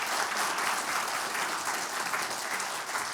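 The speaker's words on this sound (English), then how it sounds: "I'd like to ask for a few rounds of applause" Sustained audience applause fills an evening arts event on Japanese craft traditions, steady dense clapping at moderate level with no break, no speech over it.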